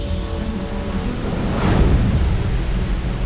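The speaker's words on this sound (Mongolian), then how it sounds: "Японд хүчтэй шуурга болов." A strong storm with heavy rain in Japan makes a dense, constant roar of downpour, and a deep thunder rumble swells through the middle before easing back into the rain.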